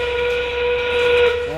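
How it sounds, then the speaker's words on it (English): The 20-second warning whistle at a FIRST Robotics Competition match sounds as one loud, sustained, steady tone with bright harmonics, heard alone over faint arena noise. "we are about to hear the 20-second whistle."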